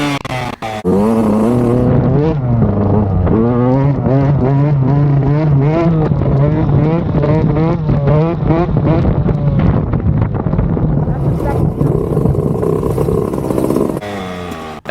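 Motorcycle held in a sit-down wheelie in second gear, engine roaring steadily near the microphone for most of the run, pitch rising and wavering with throttle, heavy wind buffeting throughout, then easing off at the end.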